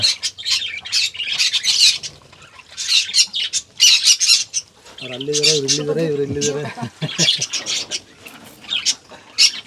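Pet birds squawk harshly and repeatedly at close range, with a person talking briefly in the middle.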